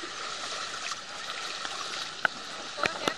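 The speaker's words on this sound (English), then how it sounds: "We're actually walking in the water now." People wading through street floodwater in Thailand, with faint sloshing and splashing of water around the legs, a few brief sharper splashes near the end over quiet background.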